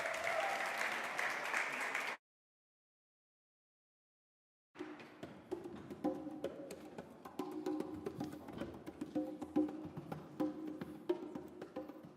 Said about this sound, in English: can we give a big round of applause to Lufefe and our percussionist, Kamalfa?